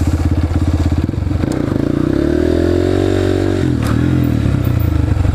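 A dirt bike engine revs hard and steadily through a wheelie in first gear, its pitch rising and holding loud and close before dropping briefly near the end, then picking back up.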